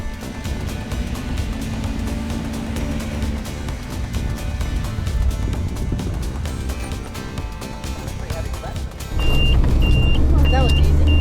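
A 4x4 with its diff lock engaged drives through a sand dune section on the Border Track. The engine drones steadily and close, then grows louder near the end. Electronic beeps come in late.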